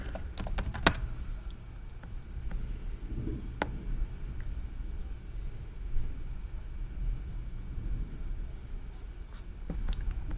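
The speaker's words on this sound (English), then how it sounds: "now I gotta type" Computer keyboard typing, a few sharp keystrokes near the start and scattered soft clicks afterward, close and fairly quiet over a low background hum with no talking.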